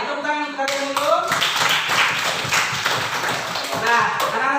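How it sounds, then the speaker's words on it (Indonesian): Schoolchildren in an Indonesian classroom clap their hands together in a dense burst lasting a few seconds, with a teacher's voice heard before and after. "tepuk tangan untuk kalian dulu"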